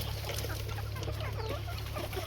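Free-range village chickens cluck softly in the background while drinking, over a low steady hum, scattered short calls from several birds.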